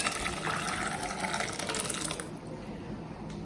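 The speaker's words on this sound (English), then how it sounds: "Now she's pouring it in." Watery green peas poured from a pot into a serving bowl, a steady wet splashing and trickling close by that thins out toward the end.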